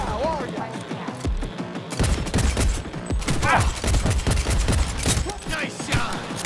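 Dense bursts of gunfire in Cyberpunk 2077 rattle almost nonstop, loud and close, with shouting game voices mixed into the firefight.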